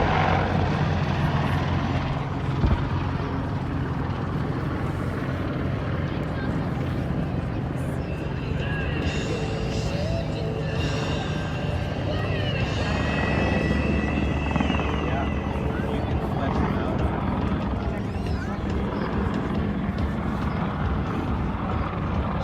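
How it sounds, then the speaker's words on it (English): Two AH-64 Apache helicopters drone steadily overhead for a long stretch, a continuous thudding rotor and engine roar that swells and fades slightly as they circle. "2 AH-64 Apache helicopters circled overhead"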